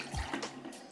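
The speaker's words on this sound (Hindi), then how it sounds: "तो अब हम इसको इसमें पानी डाल देते हैं" Water poured into ghevar batter in a kitchen bowl, a brief, faint splash and trickle of liquid lasting under a second.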